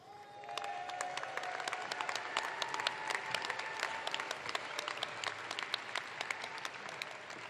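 An audience applauds for degree candidates at a business school precommencement ceremony, dense sustained clapping that fills the room steadily from start to finish, with no talking.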